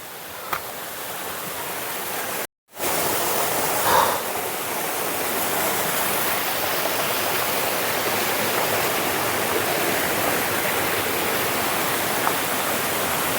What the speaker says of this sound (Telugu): రంధ్రాలు రంధ్రాల్లోంచి కిందికి వెళ్ళిపోతున్నాయి వాటర్